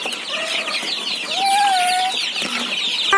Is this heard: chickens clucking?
yes